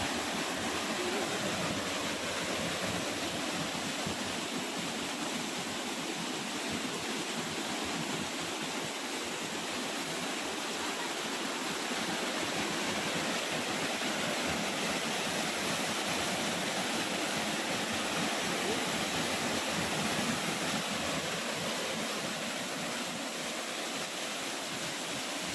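Waterfall at Ghaghari Dham near Bero, Lapung, a constant broad rushing roar of falling water, loud and close, steady throughout with no pauses or talking.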